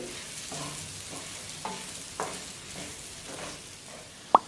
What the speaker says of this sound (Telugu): కారం రొయ్యలకి పట్టేటట్టు ఒక 2 నిమిషాల పాటు మిక్స్ చేసుకుంటూ ఫ్రై చేసుకోవాలి